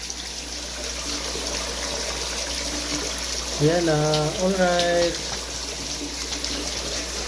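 Water drains from a 21 square metre biofloc tilapia pond in a constant, steady rush, with a brief spoken exclamation partway through.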